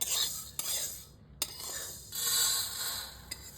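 Dry-roasted moong dal poured out of a pan, heard as a soft, close rattle and scrape of dry lentils and a spatula against metal, with a couple of sharp clinks, fairly quiet throughout.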